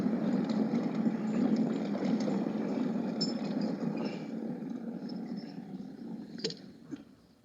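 Multi-engine modified race vehicle runs with a steady, rough low drone and rattle, close and fairly loud, fading somewhat toward the end with a few clanks, no voices.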